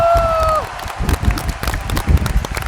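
After a beach wrestling team match, a crowd breaks into loud, steady applause with scattered cheers, following a short whistle-like tone that slides down at the start.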